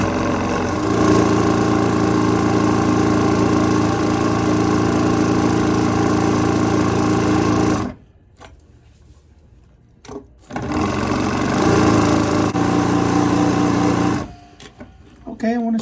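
A straw braid sewing machine stitching samples, running as a loud, steady mechanical whir close by, stopping twice briefly before starting up again, with a person talking now and then.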